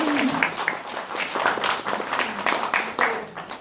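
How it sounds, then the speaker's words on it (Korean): Steady audience applause for a film director at a Korean movie screening talk event, a dense wash of many hands clapping with little talk over it. "큰 박수를 한번 부탁드리겠습니다."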